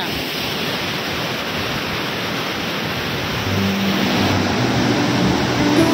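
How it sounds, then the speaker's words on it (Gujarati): Large volume of water rushing through the Sabarmati dam at Hirpura village: a loud, continuous broadband roar, steady throughout and slightly louder in the second half, with no talk. "તો તમે જોઈ શકો છો કેટલું વિશાળ પાણી જાય છે અહીંયા।"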